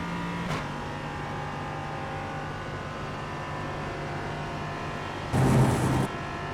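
Ligier JS320 LMP3 race car engine in the iRacing sim at Spa-Francorchamps drones steadily at high revs, with a short shift near the start and a brief louder, rougher burst near the end.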